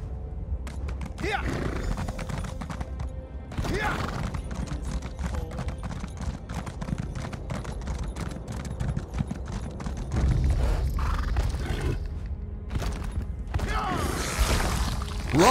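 Horse galloping in the video game Elder Scrolls Online, rapid rhythmic clip-clop hoofbeats running continuously and fairly close, with occasional louder bursts and game effects mixed in.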